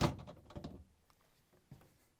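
A refrigerator freezer basket on a Frigidaire/Electrolux fridge is lifted on one side and slid out, making a scraping slide followed by a few light knocks and a final thunk, up close.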